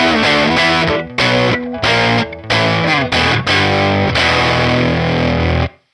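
Electric guitar on its neck pickup played through a Universal Audio Woodrow 55 amp, a run of loud, mildly distorted chords and single notes in bursts with short gaps, ending on a long ringing chord.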